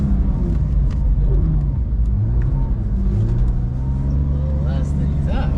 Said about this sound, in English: Let us take this beautiful yellow GT3 RS on the skid pad and see what she's got.